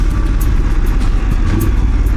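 A Voge DS900X motorcycle engine holding steady at around 2000 rpm, a continuous loud low rumble with no clear revving, close by and alone without talk.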